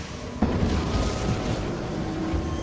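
A sudden sharp crack of thunder from nearby lightning breaks into a steady hiss of rain beside a river, then rumbles on low and heavy for a couple of seconds.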